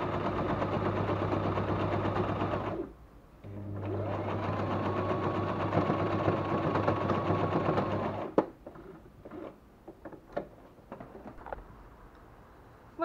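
A sewing machine stitches a reinforcement seam on a fabric pouch, running in a fast, steady close whir for several seconds, pausing briefly, then running again before stopping; clicks and handling noises follow.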